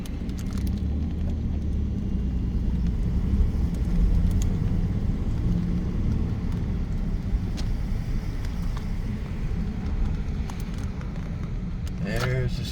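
A car drives along a congested road toward Lane Stadium, giving a continuous low interior rumble and road noise that holds steady throughout, with a brief higher whine near the end.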